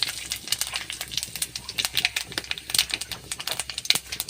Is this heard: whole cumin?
yes